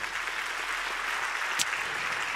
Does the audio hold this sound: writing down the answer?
no